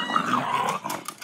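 Two dogs growl and snarl close by as they tussle over a ball, giving a rough, continuous rumbling growl that breaks into short yippy bursts near the end.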